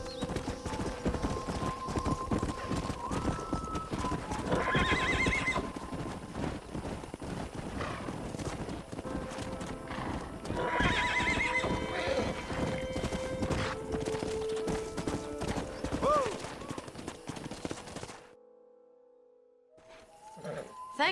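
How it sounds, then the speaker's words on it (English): Horses in the Red Dead Redemption video game, steady clip-clop of hooves at a trot with neighs and whinnies rising above, ending in near silence before a last faint stir. "We got some fine horses."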